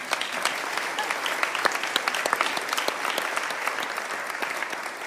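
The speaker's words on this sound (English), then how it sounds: "Clap for these people." An audience at an end-of-year celebration applauds, a dense, steady burst of many hands clapping together that continues throughout at moderate loudness with no talking.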